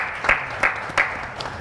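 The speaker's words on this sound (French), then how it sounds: "On applaudit aussi très fort pour Madame Sarah" A television talk show audience applauds a guest in a short burst of clapping, with a few louder claps standing out from the steady patter.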